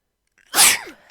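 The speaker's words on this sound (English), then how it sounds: "That was a cute sneeze." A single sharp, close sneeze with a breathy hiss that tails off into a brief falling squeak, loud and alone.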